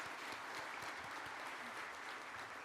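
Warm audience applause fills a Korean award ceremony hall, the 2023 Samsung Ho-Am Prize, a steady dense patter of many hands clapping with no voices over it.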